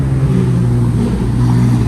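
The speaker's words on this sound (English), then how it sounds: "That Aventador sound crazy." A Lamborghini Aventador at a supercar meet, a loud, steady low engine rumble close by with no clear rise in pitch.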